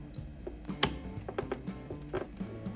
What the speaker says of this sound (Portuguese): Até ouvir os cliques do encaixe